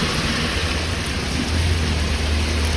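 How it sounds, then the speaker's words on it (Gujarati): Heavy rain pouring at the Hajipur bus stand, a dense, steady hiss of rainfall with a low rumbling undertone, close and loud, with no one speaking. "વરસાદ તો જો ખતરનાક ચાલુ છે"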